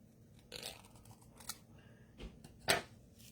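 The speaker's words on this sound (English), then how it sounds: "I'm going to cut a little bit more off here." Scissors cut paper card for a layered handmade greeting card, with a few short quiet snips and rustles spaced irregularly and one sharper cut near the end, close by with no talking.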